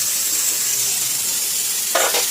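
A pan of vegetable curry (shaak) sizzles with a steady soft hiss in a home kitchen, ending in a couple of brief louder scrapes near the close.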